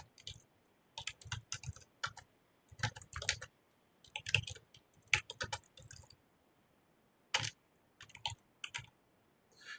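Fingers type on a computer keyboard while entering PHP code, with close, crisp key clicks in quick bursts separated by short pauses.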